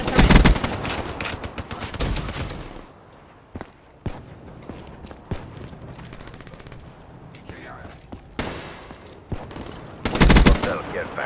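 Turret gunfire in Call of Duty: Black Ops III comes in loud bursts of rapid automatic shots separated by quieter gaps, with scattered single shots and game sounds in between.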